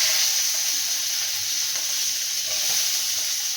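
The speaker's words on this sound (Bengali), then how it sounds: "ফোড়নে আমি গোটা জিরে আর তেজপাতা দিলাম, আর তার সঙ্গে আমি দিলাম কাঁচা লঙ্কা" Whole cumin, bay leaf and green chili crackle and sizzle in hot tempering oil, a steady close frying hiss with a few soft pops throughout, no voices.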